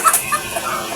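Soft, brief clucks from a chicken, a few scattered notes close by with faint background noise.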